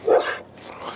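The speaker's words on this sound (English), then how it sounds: "let me tell her to bark" A dog named Raven, aggressive after smelling a possum, gives a single sharp close bark on command, followed by a brief softer rustle.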